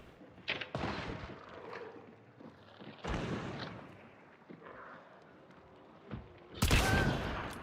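Gunfire from a close-range hipfire kill in the video game Hunt, several sharp loud shots spaced across a few seconds, each with a booming tail, the last burst the loudest.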